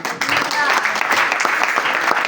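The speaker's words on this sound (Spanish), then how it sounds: "Denle un aplauso al Señor" A church congregation applauds for a brief stretch, a dense wash of clapping heard under a voice speaking over it.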